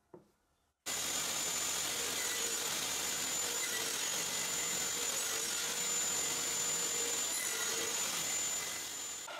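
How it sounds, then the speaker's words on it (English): A homemade disc sander with fine grit sandpaper grinds the ends of wooden crate pieces, a loud, steady whirring roar that starts abruptly after a brief quiet moment and runs continuously without pause. "Now I sand both ends of all the pieces with the help of my homemade disc sander and fine grit sandpaper."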